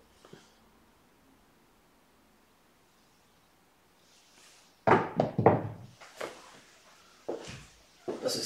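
Dice thrown at a craps table during practice, a few sharp clattering knocks and tumbles in quick succession after a quiet stretch, close and fairly loud.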